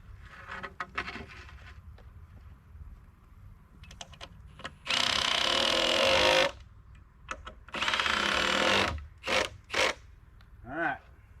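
Screws are driven into a wooden board with a cordless power drill for pole barn foundation bracing, heard as two longer whirring bursts and a few short ones amid clicks and handling noise, close by.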